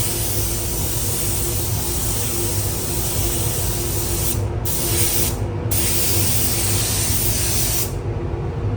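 Bubble gum pink liquid wrap sprays onto a Ford Focus ST in a loud, close, continuous hiss, broken by a few brief stops of the spray gun.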